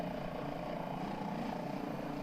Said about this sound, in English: obviously the High Performance Group helicopter here